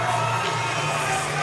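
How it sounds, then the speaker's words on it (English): A wrestling crowd at a West Coast Pro Wrestling event cheers and whoops for Karl Fredericks in a loud, steady roar that fills the whole moment. "listen to this crowd showing their appreciation for him"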